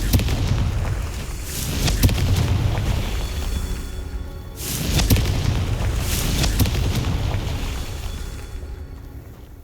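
A Confringo fire spell explodes twice in Hogwarts Legacy, each blast a loud, rumbling boom that crackles and slowly fades, with a steady roar of battle noise between.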